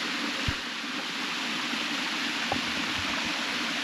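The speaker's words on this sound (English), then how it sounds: "So this is the original waterfall right here." Waterfall at the Glory Hole in the Arkansas Ozarks, a steady broadband rush of falling water close by, unbroken throughout, with a couple of faint knocks over the roar.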